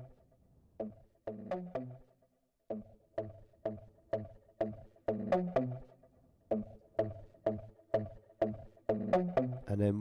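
Music sample played dry without its two delay plugins, a tight repeating pattern of short percussive hits and low tonal notes in steady rhythm, close and clear with no voices.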